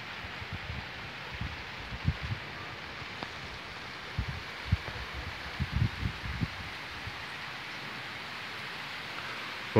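Rain beginning to fall over a countryside smallholding during a Sunday storm, a steady soft hiss of drops with scattered low thumps and rustles, no voices.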